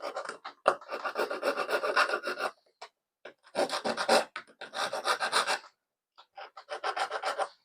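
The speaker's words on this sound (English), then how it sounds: "I'm going to file this excess solder out of the way." A hand file scrapes away excess solder in rhythmic rasping strokes, close and crisp, working in several bursts of rapid back-and-forth rubbing separated by short silent pauses.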